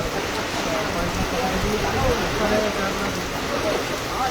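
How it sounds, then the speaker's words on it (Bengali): Heavy downpour in Rupnarayanpur hisses in a dense, steady wash of rain close around, continuous and loud throughout. "দেখুন প্রচুর বৃষ্টি"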